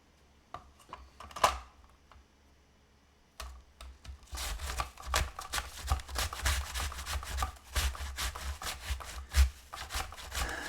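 An apple rubbed on a grater, first a few scattered scrapes, then a dense run of quick, rhythmic rasping strokes close by, with no talk.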